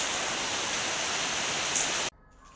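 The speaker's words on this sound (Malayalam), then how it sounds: "അപാര മഴയാണ്." Heavy rain pours down as a steady, dense, loud hiss that continues unbroken, then cuts off abruptly near the end, leaving only faint quiet.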